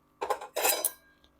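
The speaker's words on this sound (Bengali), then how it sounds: "মশলাটা ঠান্ডা করার জন্য একটা প্লেটের মধ্যে ঢেলে রাখবো" Freshly fried whole spice mix for a vegetarian potato curry poured from a pan onto a plate: two short, bright rattling scrapes close by, then a faint single clink, with no talking.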